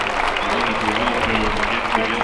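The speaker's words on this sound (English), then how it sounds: "Give them one more round of applause, ladies and gentlemen, please, to say thank you." Applause from an audience at a wood-chopping relay event, a dense steady clatter of many hands filling the whole moment, with a faint voice mixed underneath.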